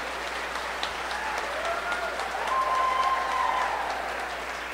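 A congregation at a church retreat claps together at a moderate distance, a steady wash of hands rising slightly midway, with faint tonal sounds drifting above it.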